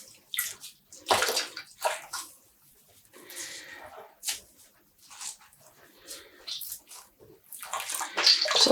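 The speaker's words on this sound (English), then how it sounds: "Squeezing out water." Water squelches and drips as a freshly dyed yarn skein is squeezed by hand, in irregular wet bursts separated by short pauses.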